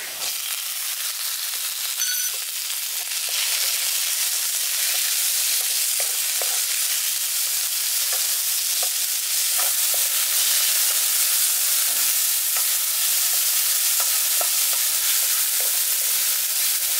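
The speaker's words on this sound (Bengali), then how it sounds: "চিকেনটাকে দিয়ে হালকা করে একটু ভেজে নিয়েছি" Small chopped chicken pieces fry lightly in a pan with onion, ginger and garlic paste, giving a steady, close sizzle with faint occasional crackles throughout.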